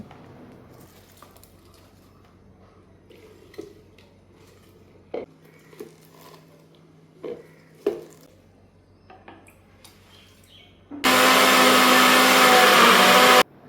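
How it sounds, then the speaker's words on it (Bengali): A kitchen blender purees spinach, starting abruptly near the end as a loud, steady, full-bodied whir that follows several seconds of quiet clinks and handling sounds. "আমি এটা এখন ব্লেন্ডারে দিয়ে ব্লেন্ড করব"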